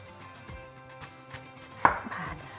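A knife chops Korean radish on a cutting board for beef radish soup, with soft, scattered strokes and one sharper, louder chop near the end, heard close and quiet with no talking.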